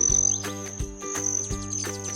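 Broad-tailed hummingbird wing trill, a high metallic buzzing whistle pulsing in quick bursts, close and fairly loud with no voices over it.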